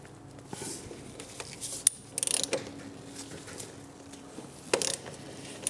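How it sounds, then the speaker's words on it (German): A socket tool loosening the oil filler cap on a BMW M2 Competition during an oil change. It gives faint, intermittent mechanical clicking and ratcheting in short bursts against a quiet background. "Ich habe jetzt hier meinen entsprechenden Aufsatz mir geholt von zu Hause, um den Öldeckel zu lösen."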